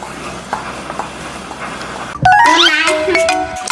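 A bright chiming notification bell, a quick run of tinkling tones that rises and rings out over a quieter background.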